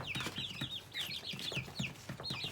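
Chickens in a coop, including a young Pavlovsky rooster, give rapid high peeps mixed with low clucks, a busy overlapping chatter heard close and soft, without speech.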